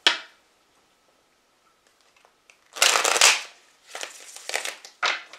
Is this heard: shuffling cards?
yes